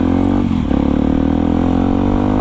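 A Yamaha WR155R supermoto engine runs steadily close by with a strong, even mechanical drone and a brief dip in pitch, alone with no talk.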